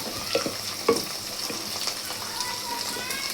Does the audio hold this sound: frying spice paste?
yes